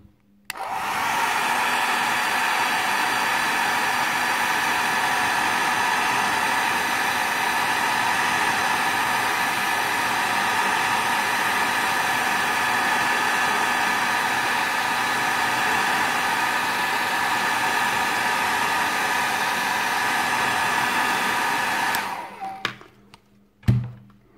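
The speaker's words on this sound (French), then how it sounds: "un petit coup de sèche-cheveux pour commencer à le faire coller" A hair dryer blows steadily while a Tamiya 1/24 scale Toyota Corolla WRC model kit is being assembled, a loud, even whooshing hum held for about twenty seconds before it cuts off with a few handling clicks.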